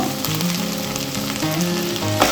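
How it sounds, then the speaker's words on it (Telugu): Okra (bendakaya) fries loudly in a pan, a strong continuous sizzle with faint scraping as it is stirred, close and without talk. "మధ్య మధ్యలో ఇలా కలుపుకుంటూ ఉండాలి, ఎందుకంటే అడుగంటే అసలు మాడిపోతాయి అన్నమాట."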